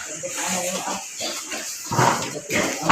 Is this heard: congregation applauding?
no